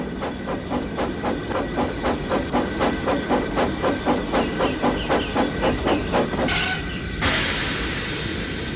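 A steam train chugs in a steady, rapid rhythm, then a loud burst of hissing steam takes over near the end.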